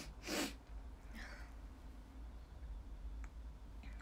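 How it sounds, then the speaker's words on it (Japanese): A single sudden sneeze from a woman with pollen allergies, close and fairly loud near the start, followed by quiet breathing and faint background room noise. "私今日鼻水とくしゃみがひどいんですけど"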